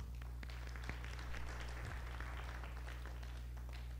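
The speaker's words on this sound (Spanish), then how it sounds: "agradecemos a José Luis por su presentación con un aplauso" Audience applause after José Luis's presentation, light scattered clapping heard faintly over a steady low electrical hum in a room.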